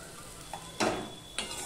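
Onion and potato frying in a pan with oil and being stirred, giving a soft steady sizzle broken by two short scraping bursts of the utensil against the pan, with no talk.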